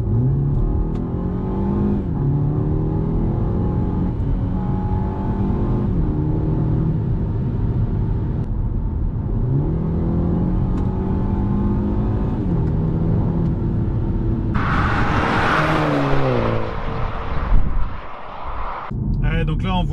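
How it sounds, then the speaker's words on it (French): A BMW M135i engine hums and climbs in pitch as it accelerates, steady and close, with artificially reproduced engine sound in the cabin, someone talking over it and a louder surge near the end. "qui vous reproduit artificiellement le bruit du moteur dans l'habitacle"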